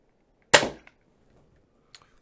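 A single sharp report from an Outlaw gun fired once, loud and close, with a quick decaying tail followed by a couple of faint clicks.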